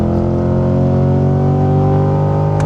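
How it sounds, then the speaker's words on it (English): A Chevrolet C8 Corvette V8 engine roars loud and close, pulling hard from third into fourth gear under acceleration in a dense, steady, rising drone. "let's do a quick pull. Downshift to 3, rip it, up to 4."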